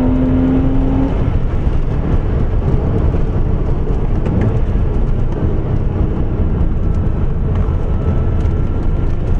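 A Porsche Boxster S 986 engine held at full throttle toward 6000 rpm, a loud, sustained roaring drone that stays strong throughout from inside the car.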